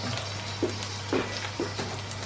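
Bacon sizzles in a frying pan with a steady crackling fry and a few louder pops spaced out over the hiss.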